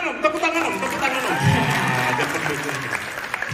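A seminar audience laughing and applauding during a humorous talk by a priest, a dense continuous burst of clapping mixed with crowd voices and laughter throughout.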